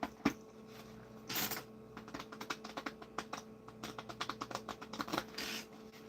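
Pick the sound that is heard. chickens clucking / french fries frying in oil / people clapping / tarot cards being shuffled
tarot cards being shuffled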